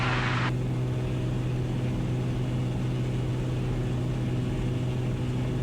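Beechcraft A36 Bonanza propeller engine held at 2500 RPM during a prop balance run, a loud, constant droning hum that continues unchanged from start to finish.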